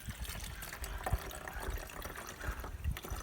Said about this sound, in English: And then you can pour into your hummingbird feeder.